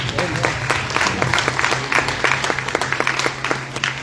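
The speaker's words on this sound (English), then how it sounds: "let's clap it up for all the candidates who showed up to participate" An audience at a Cleveland judicial candidate forum applauds the participating candidates, steady clapping from many hands with a faint low hum beneath, sustained for several seconds.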